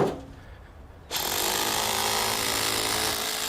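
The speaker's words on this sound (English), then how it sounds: "With pneumatic drill in hand, Marilyn gets stuck in." A pneumatic drill breaks up the stone extension of a crumbling 400-year-old fortress, cutting in abruptly after a second of quiet and then hammering loud and continuous right up close, with no one talking.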